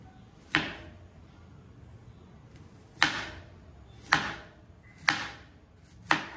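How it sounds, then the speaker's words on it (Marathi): Five crisp knife strikes slice peeled raw bananas on a board, spaced unevenly with a long pause after the first, each a sharp close chop that fades quickly in a quiet kitchen. "आपण आता हे चिरणार आहोत. आपण आता हे चिरून घेऊया."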